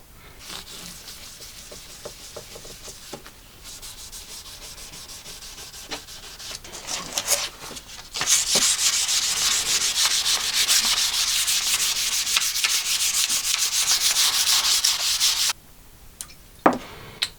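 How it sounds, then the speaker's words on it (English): Sandpaper rubs steadily across the back of a guitar neck and headstock on a rebuilt partscaster, a close, continuous scratchy rasp that grows louder and denser in the middle before easing off. "So the bit I'm concentrating on with the sandpaper is the back where you put your thumb and a bit of the back of the headstock"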